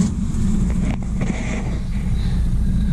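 A car engine with dual exhaust runs at a low, steady idle with a deep rumble and some wind buffeting; no one speaks.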